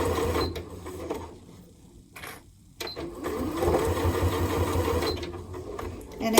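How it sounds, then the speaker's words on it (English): A sewing machine runs a row of stitching across the top of a tote bag, through layers and handles, in steady mechanical bursts with a brief pause midway. "you're going to run a row of stitching all the way across that top to encase the layers and the handles"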